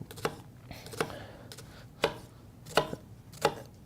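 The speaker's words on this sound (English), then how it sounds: "Again, we're going to do dicing, so we're going to go across here very evenly." A knife dices an onion on a cutting board, six crisp, evenly spaced chops ringing out close and clear with no talk over them.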